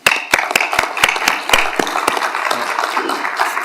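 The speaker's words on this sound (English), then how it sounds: "So I just want to give these 3 a huge, big round of applause." Audience applause at a city council meeting, a small crowd clapping with sharp, distinct hand claps in an uneven rhythm, close and fairly loud throughout.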